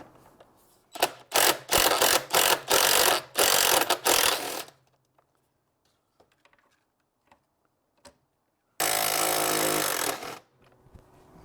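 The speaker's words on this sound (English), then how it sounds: "Cheating a little bit using a T40 on an impact wrench." Cordless impact wrench with a T40 bit hammers out bolts on a 2019 BMW 1250GS motorcycle: a series of loud rattling bursts, then a quiet gap with faint clicks, then one more sustained burst.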